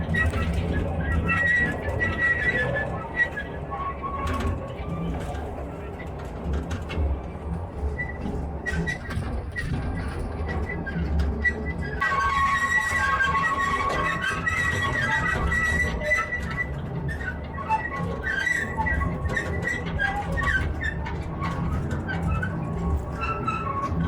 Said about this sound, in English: We're going on a mine train